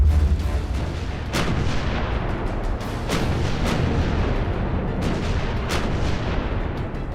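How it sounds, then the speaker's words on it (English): Naval guns from scores of warships shelling the Normandy coast on D-Day, heard as repeated heavy booms over a continuous dense rumble, several sharp blasts spaced a second or so apart. "At 5:27, the bombardment began."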